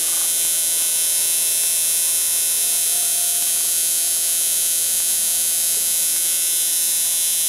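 A 550 electric motor runs steadily during body testing, giving a loud, constant buzzing hum with a grinding edge that stays level throughout, close up and with no voices.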